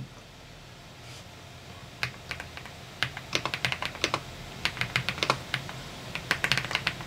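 Typing on an Aula Wind F108 full-size mechanical keyboard, quiet and close, with sparse then quickening clusters of crisp key clacks over a low background hum, no voices.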